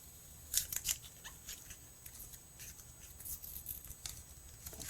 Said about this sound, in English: let's pull the tape off